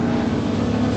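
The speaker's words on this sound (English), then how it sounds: "The Aston Martin, the much bigger V8 engine Aston Martin monsters past him." Aston Martin V8 Vantage race car with a big V8 engine roars past on the Snetterton circuit, a loud, steady, dense engine drone.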